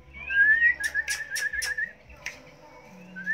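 A songbird at a bird breeding farm in the Mekong Delta gives clear whistled notes and a few sharp chirps, fairly close, with quiet pauses between phrases.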